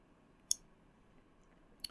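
Two sharp computer mouse clicks, about a second and a half apart, sound close and crisp against near silence while confirming a dialog in Windows Server.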